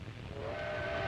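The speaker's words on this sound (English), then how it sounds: "The train rattles across desolate country the Italians will have to fight across." A steam train's whistle sounds in a long sustained tone over the rumble and rattle of the train crossing country on a 1930s Ethiopian railway line, steady and fairly loud throughout.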